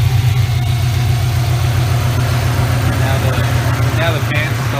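A 2003-2005 Subaru WRX engine idles steadily and loudly up close with its AC compressor running, a constant low drone throughout with slight fluctuations near the end.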